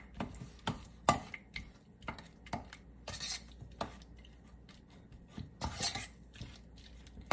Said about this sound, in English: Then we just mix them together.